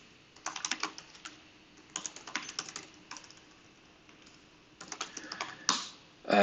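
Someone types on a computer keyboard in irregular bursts of quick, close key clicks separated by short pauses, with a louder clatter at the end.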